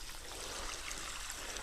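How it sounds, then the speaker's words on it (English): Buckets of water pour into a compost bin packed tight with garden cuttings on an allotment, making a steady, even rush of splashing water with no pauses. "lots of buckets of water to fill the bin right up to the top"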